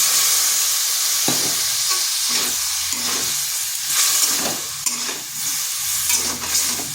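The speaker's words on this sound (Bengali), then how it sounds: "এরপর এই মশলাটা ভালো করে কষিয়ে নিতে হবে। যেহেতু কড়াই ধরে ধরে যাচ্ছে, তাই সামান্য একটু জল দিয়ে দিচ্ছি।" Masala frying and sizzling in a kadai just after a splash of water goes in, with a steady broad hiss and stirring scrapes and clatters throughout, close and loud, no voices.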